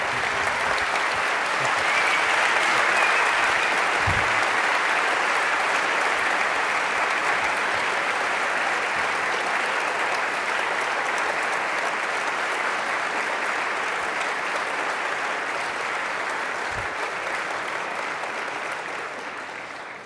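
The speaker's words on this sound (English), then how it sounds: "Let's give both of them one more round of applause." A debate audience gives a long, sustained round of applause, dense and steady for most of its length before gradually thinning and fading toward the end.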